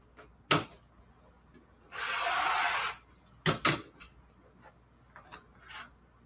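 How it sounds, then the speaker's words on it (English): Fabric torn and shredded by hand while making sunflower-themed ruffles, a sustained rough ripping burst lasting about a second, framed by a few sharper tugs and snaps, close and fairly quiet. "Shredding up fabric is fun."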